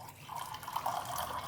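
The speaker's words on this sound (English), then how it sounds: "Let me put some water in a glass." Water trickles and splashes as it is poured into a glass at home, a brief, quiet gurgling fill with a slight dripping quality and no voices.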